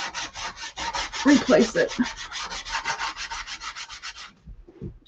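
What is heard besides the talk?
small finger sander sanding scrap wood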